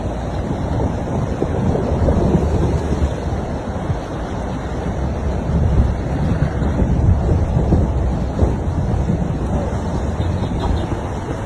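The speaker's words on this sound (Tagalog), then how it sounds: "tatawid na naman tayo sa medyo malalim na ilog na to" A vehicle fords a fairly deep, rocky river in Tanay, Rizal, with rushing, churning water and engine rumble forming a loud continuous roar throughout, mixed with wind buffeting the microphone.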